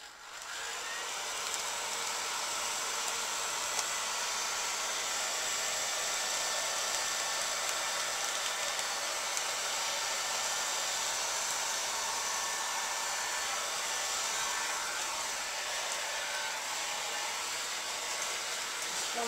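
Heat gun blowing steadily to shrink plastic wrap around a three-jar gift basket, a loud, continuous close-up roar of fan and rushing air holding unbroken throughout.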